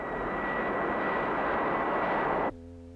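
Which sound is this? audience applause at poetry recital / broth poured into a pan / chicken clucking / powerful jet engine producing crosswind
powerful jet engine producing crosswind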